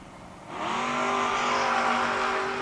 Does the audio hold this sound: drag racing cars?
yes